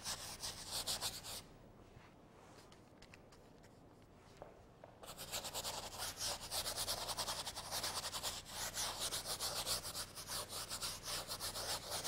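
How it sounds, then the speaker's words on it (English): Paintbrush scrubbing very thin oil paint onto a canvas on an easel for a first layer, a steady close rubbing scratch that pauses briefly, then resumes and continues at a moderate, even level. "Just scrubbing it in."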